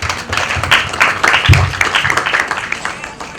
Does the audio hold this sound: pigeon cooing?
no